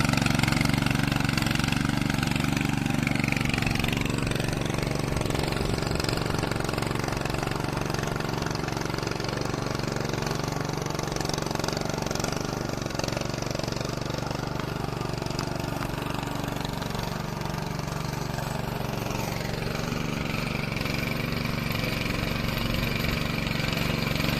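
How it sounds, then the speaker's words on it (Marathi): A tractor engine runs at a steady, loud idle in a rice field in Konkan during planting, its continuous low rumble unbroken across the clip. "ट्रॅक्टर चालू केलास"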